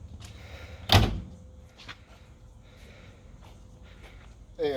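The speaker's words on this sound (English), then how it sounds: "Nice old school suicide doors" Old school rear-hinged suicide door of a vintage Jaguar car shutting with one loud, close thunk, followed by faint handling clicks and another soft knock at the end.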